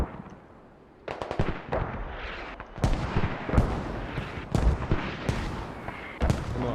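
Mortar fire in the Squad video game thumps and cracks in a dense series of loud impacts, with irregular booming rounds layered over steady battlefield noise and no voices.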